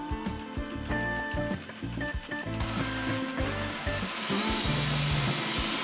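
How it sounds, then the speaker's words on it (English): A Wyze robot vacuum running indoors, starting with softer mechanical whirring, then settling into a steady, fairly loud broadband whir with a low motor hum that carries on to the end. "And vacuum is started."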